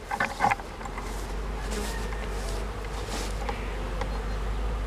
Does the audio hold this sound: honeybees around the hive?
yes